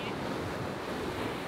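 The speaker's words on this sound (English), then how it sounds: "Rachel's bubble bath is a magical place where the ocean water crashes into a lagoon" Ocean water crashes over rocks into a lagoon at a Bahamas cay, a continuous loud roar of surf mixed with wind buffeting the microphone, filling the whole moment without voices.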